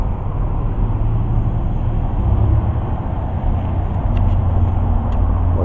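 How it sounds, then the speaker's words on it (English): Loud, continuous main-highway traffic rumbles past a cemetery in Corsicana, a steady roar of vehicles with no talking. "Of course, you're going to hear a lot of traffic going through"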